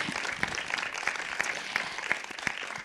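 An audience at an evening talk on language and society applauds the speakers, a soft field of clapping with one nearby pair of hands striking in a regular, evenly spaced beat above the rest.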